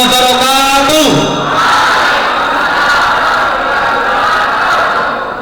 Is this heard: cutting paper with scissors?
no